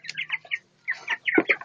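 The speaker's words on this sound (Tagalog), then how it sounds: "Iiyak yung manok ko." A chicken gives a few short, close clucks in two quick bursts, with a brief pause between them.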